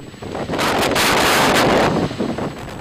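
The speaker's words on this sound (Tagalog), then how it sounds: "Damang-dama rin ang malakas na hangin sa Port of Apari at poblasyon." Loud, roaring typhoon wind buffets the microphone in strong gusts, rising to a sustained howl and easing slightly at the end, at the Port of Aparri, Cagayan, Philippines.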